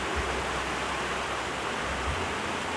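Water rushes steadily down a mountain stream toward a waterfall, a dense, continuous roar that fills the whole clip without pause.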